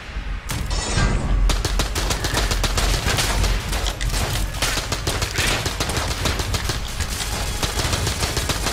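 Rapid automatic AK rifle fire from Enter the Gungeon, a dense, loud stream of shots rattling almost nonstop for several seconds after a brief pause near the start, with no talking over it.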